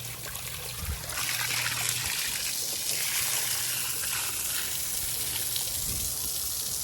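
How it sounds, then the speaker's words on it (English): Water trickles and splashes steadily out of a channel drain after roots were cleared, a continuous close flow with no talking. "See that water flow we got coming out there now?"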